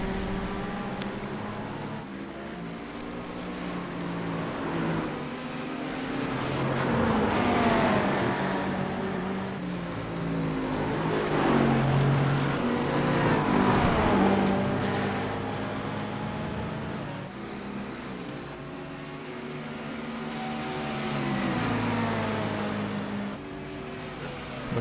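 Race cars in a racing video game, including a BMW, running onto the front straight at Watkins Glen, engines droning and rising through gears in sweeping waves, one car following closely behind another, loud and continuous with no talk.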